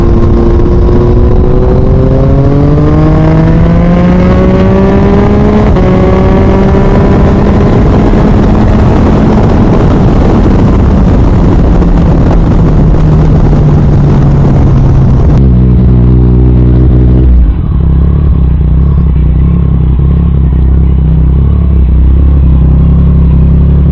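A Yamaha MT-09 motorcycle is ridden hard, its engine revving up through the gears with rising and falling pitch and shifting pauses, then settling to a lower drone near the end. The engine stays loud and close throughout, and no one speaks.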